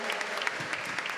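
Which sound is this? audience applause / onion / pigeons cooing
audience applause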